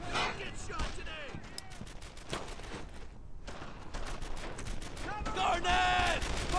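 Gunfire in the World War II shooter Brothers in Arms: Earned in Blood, with repeated sharp shots and bursts under shouting voices throughout, growing denser toward the end.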